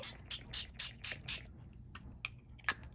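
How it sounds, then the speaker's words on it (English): Five quick hissing sprays from a Distress Oxide ink pump spray bottle in a steady rhythm, followed by a few soft clicks and taps, fairly quiet and close. "then we're gonna spray"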